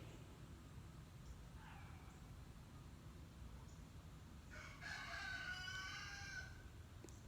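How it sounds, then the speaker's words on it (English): A rooster crows in the distance, one faint drawn-out call rising in the second half over a low steady background hum, with no one speaking. "he probably know one rooster over there with a whole bunch of hens"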